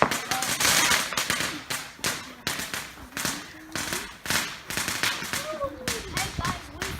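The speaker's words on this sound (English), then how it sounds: "we have decided to destroy all the fireworks that was left over since last night" Leftover Guy Fawkes Bonfire Night fireworks go off in rapid, crackling strings of sharp bangs, loud and close, with people's voices mixed in.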